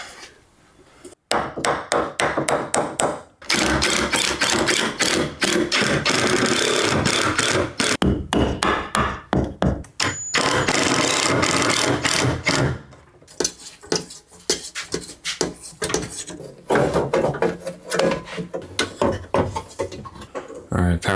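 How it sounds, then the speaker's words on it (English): A power saw cuts 2x4 wood boards during a warehouse renovation, loud sustained cutting bursts separated by brief pauses, followed by quieter clattering and handling noises. "We're just cutting some of the wood, the 2x4s, to fit the light fixture up there."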